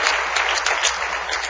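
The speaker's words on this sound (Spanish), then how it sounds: "Le puedo dar un aplauso bien fuerte al Rey." Loud, close applause from a church congregation: a brief, dense burst of many hands clapping at once, with no voices over it.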